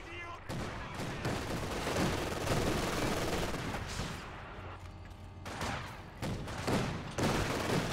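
Jammed-sounding repeated firing from a 222 armoured car in a real-time strategy game, a rapid stuttering clatter of shots looping over battle noise with someone talking over it.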